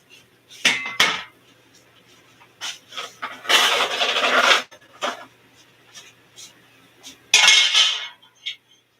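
Metal rack and grill clatter into a cooking pot while glazed paleo donuts are prepared, with several loud sharp clanks and scrapes in separate bursts and quieter handling noise between them.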